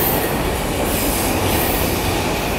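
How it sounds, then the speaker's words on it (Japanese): A Ueno-Tokyo Line train rolls slowly through Okachimachi Station in Tokyo without stopping, a loud, continuous rumble of wheels on rail with a faint metallic squeal, close by and steady for the whole stretch. "この列車ね、御徒町駅停車こそしませんが、結構ゆっくり通過していくんですよね。"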